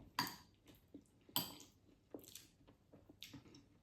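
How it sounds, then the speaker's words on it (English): Quiet close-up bites and chewing on a Kershaws Big Breakfast ready meal, with a few crisp crunches and soft clinks of cutlery spaced out across the moment. "I think the only way to eat this is going to be to just bite into it"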